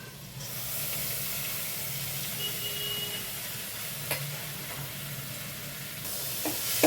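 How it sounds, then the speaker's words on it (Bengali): Soaked masoor dal being stir-fried in a pan with salt and turmeric, a steady close sizzle and hiss with faint scraping of stirring, a brief clink near the end. "ডালটা দিয়ে কিছুক্ষণ ভালো করে কষিয়ে নিতে হবে"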